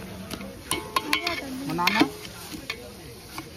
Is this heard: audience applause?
no